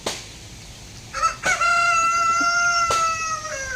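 A rooster belonging to a backyard breeding flock lets out a loud, close crow with a long sustained harmonic call after a brief lead-in, standing alone with no talk.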